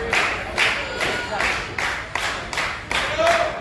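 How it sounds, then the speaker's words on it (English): A wrestling crowd at an indoor show claps in a steady rhythm of loud, roughly half-second beats, with a commentator's voice over the top. "And the crowd coming alive once again for Cooper."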